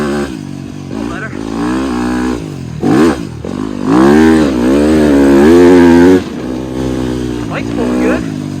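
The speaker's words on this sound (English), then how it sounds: "The bike's pulling good." A motorcycle revs while riding, its engine rising and falling in loud, close surges with wind noise; someone speaks briefly over it.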